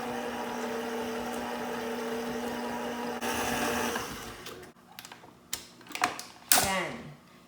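An electric mixer beats butter for red velvet cupcakes at low speed, whirring steadily before stopping, followed by a few clanks and scrapes against the bowl.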